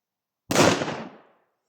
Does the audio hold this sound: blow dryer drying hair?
no